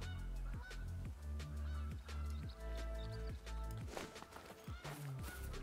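Geese in a hunting video game honk repeatedly in loud, overlapping calls that come in quick, irregular bursts, with soft footstep-like rustles underneath.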